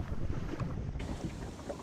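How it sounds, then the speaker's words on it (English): Wind gusts and lapping sea surround a sailboat anchored off Morgat in the Bay of Douarnenez, a steady, fairly close rush of water and breeze against the microphone with no voices. "I'm going to do it with no music and simply the sounds of the sea and the wind"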